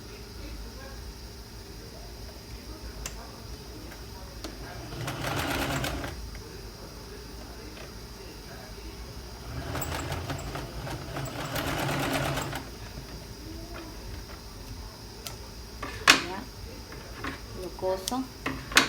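A sewing machine stitches a shirt seam in short bursts, two or three runs of a few seconds each, close by and moderately loud, with someone talking between and over the stitching.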